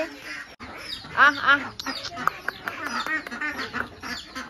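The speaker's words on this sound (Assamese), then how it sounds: "এইকেইটা হাঁহ মুৰ্গী" Ducks and chickens in a Miching village in Assam quack and cluck in quick overlapping calls, close by and fairly loud.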